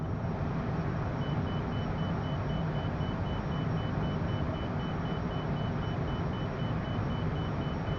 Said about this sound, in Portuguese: Esse alarme que vocês ouviram é do Inner Mark